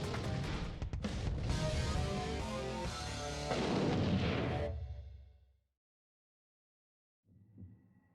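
Rapid, dense gunfire from a Gatling gun on a 30mm-armed robot in a video game, loud and continuous for about five seconds before cutting off, then a brief faint rumble.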